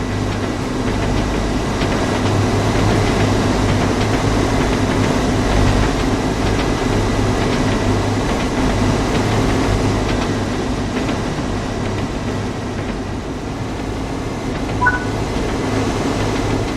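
Steady low rumble of a Northern TransPennine train engine in the video game Train Sim World 4, with rolling rail noise, continuous and fairly loud, with no voices.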